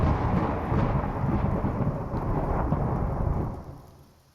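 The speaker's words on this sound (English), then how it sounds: "I don't like thunder." A deep rolling rumble of thunder during a rainstorm, loud and sustained for several seconds before fading away, with rain hissing underneath.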